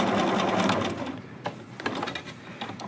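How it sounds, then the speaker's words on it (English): A sewing machine basting down seam allowances on a jogger waistband with a long straight stitch, a fast whirring motor run that slows and stops, followed by a few short bursts, close and clear. "you are simply going to baste down all 4 seam allowances"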